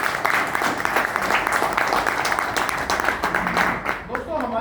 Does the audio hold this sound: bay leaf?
no